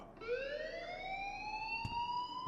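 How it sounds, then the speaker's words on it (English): Alarm ringing in the video game Life Is Strange, a single sustained wailing tone that rises slowly in pitch, steady and moderately loud, with a brief thump near the end. "please turn off that alarm since that's your job"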